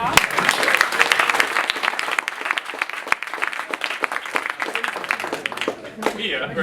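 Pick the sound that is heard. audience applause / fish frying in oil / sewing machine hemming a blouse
audience applause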